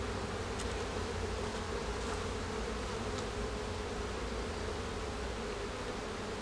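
A steady, dense hum of many honey bees buzzing close by at an open hive in an apiary, continuous and unbroken, with a faint rustle over it as frames are handled.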